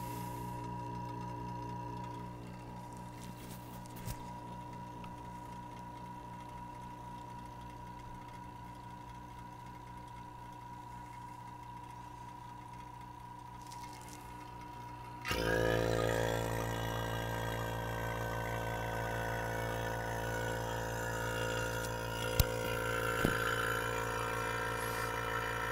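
A vacuum pump evacuating the R134a air-conditioning system of a GM pickup truck runs with a steady mechanical hum, then jumps noticeably louder and harsher partway through as the low and high side valves are opened, continuing alone at close range.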